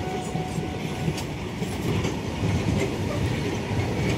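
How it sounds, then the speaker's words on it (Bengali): A train rumbles past close by on a bridge, its wheels clattering in a rapid rhythmic clickety-clack over a heavy, continuous roar. "ট্রেনটা সামনে থেকে কিভাবে বেরিয়ে গেল।"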